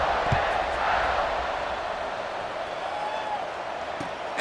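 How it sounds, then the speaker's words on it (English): A stadium crowd buzzes with a steady, loud roar of cheering and chatter during a kickoff in the video game EA Sports College Football 26, continuous throughout with no clear voices. "this crowd is buzzing after that last score"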